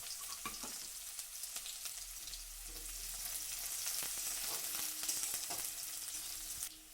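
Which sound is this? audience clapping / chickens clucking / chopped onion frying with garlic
chopped onion frying with garlic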